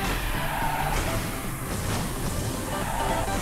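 Motorcycle racing on the 广寒仙境 track in the mobile game Garena 極速領域: a steady, loud wash of engine roar and tire noise that runs unbroken through the whole moment.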